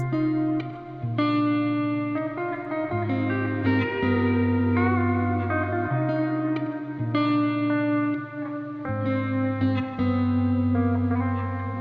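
A sung vocal line drenched in reverb and echo, sustained notes smeared together with a wet, effected tail, no talking.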